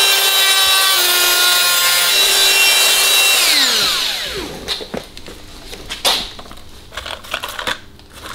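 A small grinder working the tip of a cylinder head port on an enlarged XXL cylinder head for an Abarth, starting as a steady high whine that winds down, followed by scraping, rasping grinding strokes up close.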